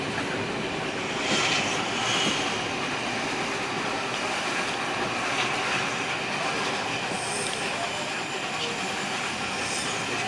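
Clan Line steam train on a railtour, heard from inside a carriage as a steady rumbling roll with faint wheel squeal and occasional clatter, continuous and fairly loud without talk.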